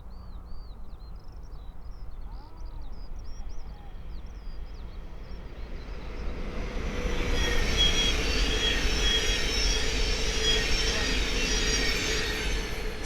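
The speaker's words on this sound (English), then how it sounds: "the next train to pass by is a Thameslink 700 from Cambridge to London King's Cross" A Thameslink Class 700 electric train on the East Coast Main Line at Great Wymondley, with birdsong at first, then a rising broad rush and rumble as the train draws near and runs past.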